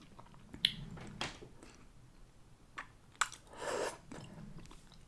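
Eggs are eaten during a mukbang, with a few close, quiet bites and soft chewing at uneven intervals against a hushed background.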